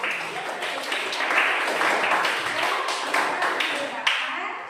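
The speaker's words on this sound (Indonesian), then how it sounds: "Tepuk tangan dong untuk kalian" Students applauding together in a classroom, a dense steady patter of many hands that fills the whole stretch at moderate loudness.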